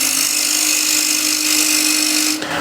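A negative rake scraper with a double bevel is pushed across the work, giving a steady, dense scraping hiss that runs continuously before stopping abruptly near the end.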